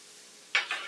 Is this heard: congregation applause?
no